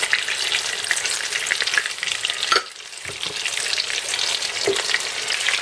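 Turkey breast rolls fry in oil in a pan, giving a dense, continuous crackling sizzle close by, with a brief dip and a few sharper pops along the way and no voices.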